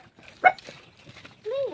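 Dog at a house with no one home, giving a single sharp bark at a moderate distance, followed by a brief whining yip, while a person talks nearby.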